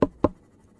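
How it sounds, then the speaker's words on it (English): Two sharp clicks about a quarter second apart, close and clear with quiet after, from the video game Subnautica. "I don't like whatever that fucking clicking noise is"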